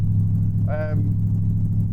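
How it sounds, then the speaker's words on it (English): The Chevy V8 engine and exhaust of a classic FX4 London taxi idle with a steady, loud low rumble, and a brief voice rises over it midway. "The engine and exhaust sound absolutely tremendous."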